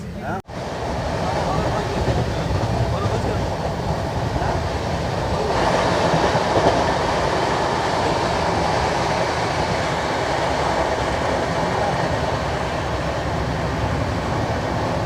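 Coromandel Express with LHB coaches rolling through Barang Junction, a steady loud rumble of wheels and carriages that holds continuously, with a brief thump at the start and a slight swell partway through.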